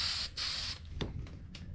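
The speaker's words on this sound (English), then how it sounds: "So I'm just gonna spray it" Cheap flat black spray paint can spraying over primer in a Porsche 944 engine bay, two long close hisses followed by several short bursts, with no talk.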